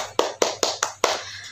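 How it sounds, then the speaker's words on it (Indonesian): Children clap their hands together at a Sunday school service for the younger class: five crisp, evenly spaced claps close by, ringing briefly over a low steady hum. "Tepuk tangan dulu untuk kita semua."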